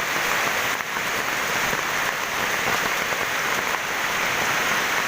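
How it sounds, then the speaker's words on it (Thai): Rain falls steadily onto a plastic sheet stretched over vegetable seedlings, a dense, even hiss of countless small patters, close and continuous with no talking. "ตอนนี้ฝนก็กำลังตกมาเรื่อยๆนะครับ"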